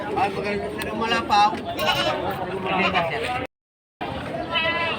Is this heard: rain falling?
no